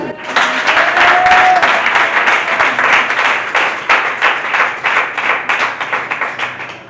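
Church congregation applauding during a sermon, a dense sustained wash of many hands clapping close by for about seven seconds, thinning toward the end into more separate, rhythmic claps.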